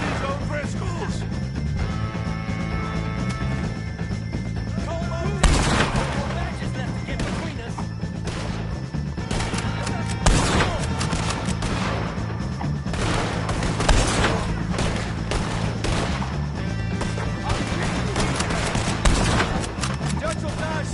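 Dense video-game gunfire rattles almost nonstop as O'Driscoll gang members are shot, sharp cracks and rapid bursts piling over a constant rumble, loud and close, with game characters talking and shouting throughout.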